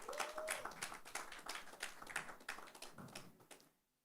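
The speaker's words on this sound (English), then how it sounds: "Please, let's kindly clap." Scattered clapping from a small audience at an event, a handful of distinct hand claps in an uneven rhythm, faint and fairly distant, fading out at the end.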